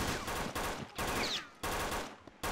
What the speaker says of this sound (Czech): jaký výstřel